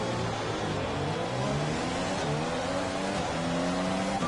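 Formula 1 race car in the F1 2020 video game at the Japanese Grand Prix race start, engine revving loud and close with steady, rising pitch and gear changes, no talk.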